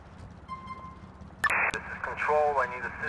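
Police radio crackle from the GTA IV LCPDFR mod: a burst of static and garbled dispatcher chatter breaks in midway, fairly loud over a steady in-game background hum, with a faint voice earlier.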